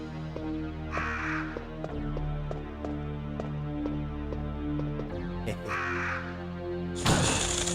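Crows cawing in Resident Evil 1 on the PS1, a few harsh caws standing out loud and near over a steady droning game music bed, with one final burst of noise at the end.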